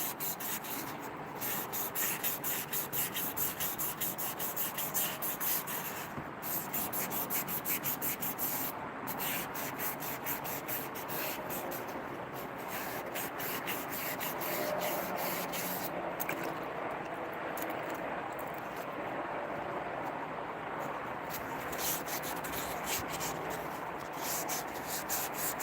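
A sanding machine smoothing wooden slingshot frames, a continuous loud abrasive rasp that holds steady throughout, with brief dips and shifts as the workpiece is pressed and moved against it.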